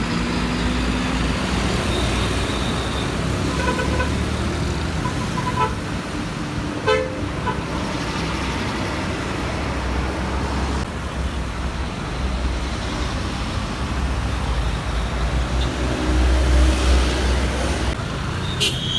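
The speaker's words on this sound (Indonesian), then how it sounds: "Truk trailer keluar dari karoseri Adiputro." A trailer truck pulls out of the Adiputro coachbuilder's yard, its engine rumbling loud and steady amid road traffic, with car horns tooting now and then and faint voices in the background.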